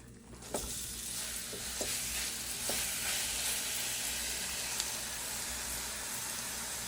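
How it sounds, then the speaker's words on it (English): Onions frying with cumin seeds in a little oil in a pan over medium-high heat, a steady close sizzle and hiss with a few sharp pops and spatters near the start. "So I've added the onions."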